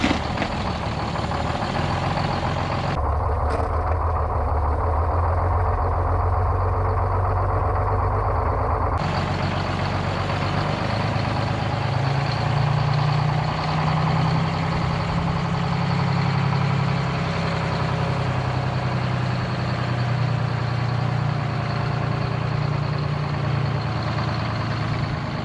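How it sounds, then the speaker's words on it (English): A White Road Xpeditor truck parked since 1996 idles on its governor, a steady low diesel rumble throughout with a brief shift in tone early on. "I was finally able to just idle along with the governor, so I could do a little bit of driving."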